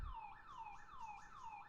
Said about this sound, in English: No, it's just a fucking alarm.